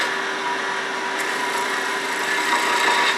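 A wood lathe spins steadily while a tool eases into a 20 mm section of a chess rook, reducing it toward a 12 mm neck; a continuous whirring drone with a faint scraping edge, close and alone.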